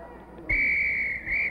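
A coach's whistle in a cartoon gives two shrill blasts, a long steady one followed by a shorter one after a brief dip, loud and close with no talking.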